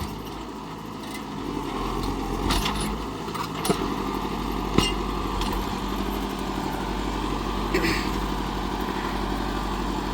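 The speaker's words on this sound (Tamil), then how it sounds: "கலப்பையெல்லாம் கீழே இறக்கி கட்டி கரெக்டான பதத்தில் ஓடிக்கிட்டு இருக்குதுங்க." A Kubota MU5501 55 hp 4WD tractor pulls a duck foot cultivator through a field, giving a constant low engine rumble with clattering, rattling accents that persist steadily throughout.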